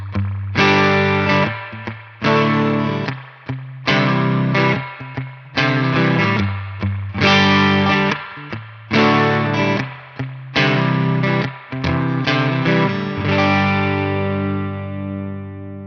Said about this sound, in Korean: 스프링 리버브 소리 한번 잠깐 듣고 갈게요.